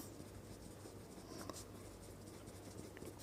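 Pen or chalk scratching steadily while a math solution for a Class 10 Euclid division problem is written out, faint and continuous with small strokes and taps throughout.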